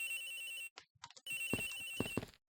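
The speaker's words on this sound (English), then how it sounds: "The ringing is coming from somewhere around here." A telephone rings in the Ace Attorney Investigations video game: a bright electronic ringtone trills steadily, breaks off into short chirps, then resumes with a few sharper blips over it before stopping.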